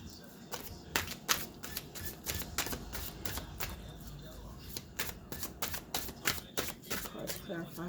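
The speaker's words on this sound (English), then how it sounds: "Archangel Michael, let me get 2 cards clarifying, be assertive" A tarot deck being shuffled by hand during a reading, with repeated crisp riffling bursts and slaps in a steady rhythm, close and fairly loud; a voice talks faintly underneath in places.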